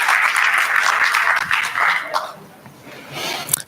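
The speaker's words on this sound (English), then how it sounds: "Give yourself a big clap." An audience at a training seminar in Bali gives a short round of applause, dense clapping that fades after about two seconds, with voices mixed in.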